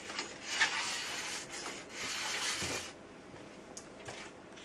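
A hand file drawn along a ski's steel edge to take off excess metal, giving steady close rasping strokes in repeated passes, with a few longer scrapes and short pauses between them.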